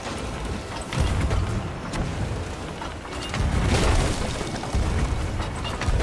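Ship cannons firing aboard a sloop in a pirate video game, deep booms landing in irregular bursts over a constant rumble of sea and game noise.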